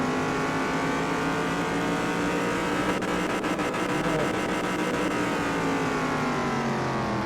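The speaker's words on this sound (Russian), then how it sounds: "Двигатель звучит неплохо, кстати." A simulated car engine in the Car Mechanic Simulator 2021 video game revs hard on a dyno test, a loud, steady high-rpm roar that holds for several seconds with a brief flutter midway.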